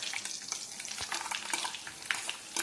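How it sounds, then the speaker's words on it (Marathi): Ground coconut and garlic paste sizzles as it is sautéed in a pan over a low flame for besan amti. The crackle is faint, steady and busy, and no one speaks. "आणि मंद गॅसवर आता हे छान असं परतून घेऊयात। खोबरं लसूण चांगलासा तांबूस होईपर्यंत परतून घ्यायचा आहे"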